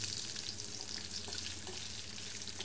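Tempering seeds crackle and sizzle in hot oil while cooking senaga guggillu, a steady dense fry that stays even and close throughout with no voices.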